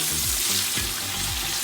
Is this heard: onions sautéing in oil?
yes